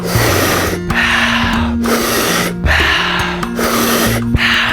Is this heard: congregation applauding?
no